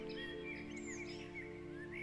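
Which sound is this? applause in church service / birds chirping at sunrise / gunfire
birds chirping at sunrise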